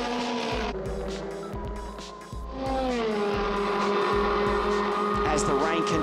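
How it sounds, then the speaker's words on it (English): Euroformula Open single-seater race cars at a wet Monza restart, with loud, high-revving engines droning continuously and shifting pitch as they accelerate away, all under a commentator's voice talking throughout. "Bolakvashi at the restart, pulling away from Cameron Das"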